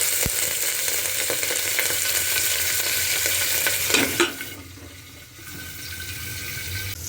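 Chopped garlic frying in a pan makes a dense, continuous sizzle up close, which drops away sharply partway through before a softer frying hiss returns.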